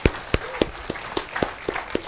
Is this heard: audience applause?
yes